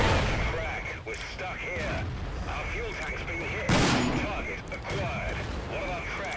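Tank cannon fire in a tank video game, played in a Cromwell tank: several sharp booming shots are spaced a second or more apart, under steady engine rumble while someone talks over them.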